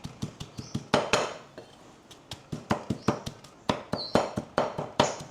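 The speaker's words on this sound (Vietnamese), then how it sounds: "sau khi thịt của mình đã cắt hạt lựu như thế này rồi thì mình sẽ băm sơ sơ thôi" Knife chopping diced pork on a cutting board, a quick series of sharp, close, rhythmic chops in bursts with a short pause in the middle.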